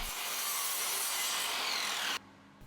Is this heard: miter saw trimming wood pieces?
yes